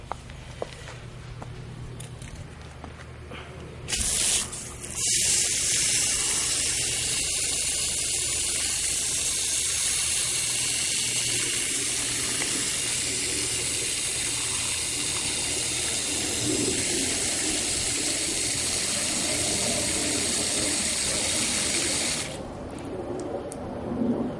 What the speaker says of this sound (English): So let's give this thing a good watering.